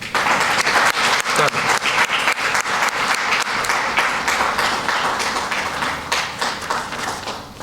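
Lively audience applause at a book launch ceremony, brisk dense clapping held steady for several seconds with no talk over it.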